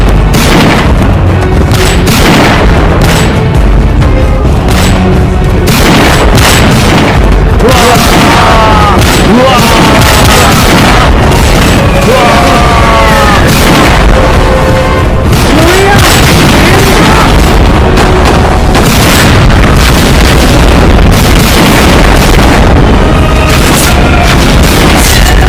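Gunfire and heavy booming explosions fill a battle scene, loud and relentless, with repeated blasts and shots overlapping throughout and voices occasionally heard beneath.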